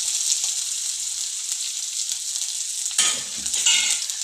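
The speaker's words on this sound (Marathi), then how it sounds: "कांदा छान असा लाल रंगावर भाजून घेतलेला आहे।" Chopped medium-sized onion fries with garlic in a pan, giving a steady close sizzle and a louder burst of stirring and spatula scraping near the end, with no talking.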